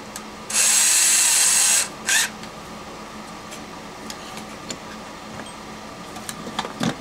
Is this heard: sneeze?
no